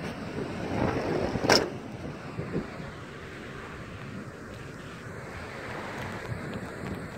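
Strong wind during a thunderstorm roars as a steady broadband rush outdoors, with a brief louder gust or thump early on and otherwise constant, even noise.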